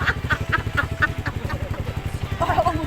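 Motorcycle engine running while crossing a bridge near San Nicolas, Pangasinan, a close, rhythmic low putter pulsing steadily, with faint voices briefly near the end.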